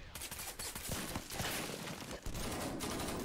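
Bursts of rapid gunfire and scattered shots from a live-action Escape from Tarkov film, dense and loud, continuing throughout with no talk.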